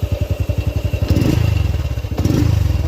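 A motorcycle engine with a new, quieter aftermarket exhaust putters in a rapid pulsing rhythm, then revs up twice with a throaty, rattling exhaust close by.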